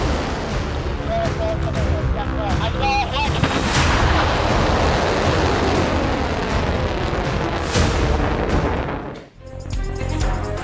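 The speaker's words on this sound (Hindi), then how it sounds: "ग्रीन जोन में कायम अमेरिकी सिफारत खाने पर भी मिसाइलों की बौछार।" A missile barrage strikes in news footage, a dense, continuous roar of rumbling blasts and crackling detonations that stays loud throughout, briefly dropping out near the end before resuming.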